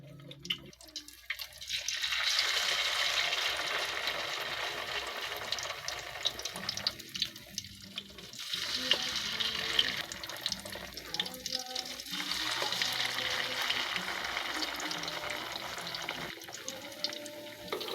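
Pork giniling omelette with string beans frying in a pan, a loud, steady hissing sizzle that runs throughout with a few brief dips in intensity.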